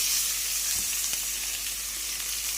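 Chicken leg pieces sizzle steadily in hot oil with ginger while a curry is cooked, a close, continuous bright frying hiss with a soft stir or clatter partway through.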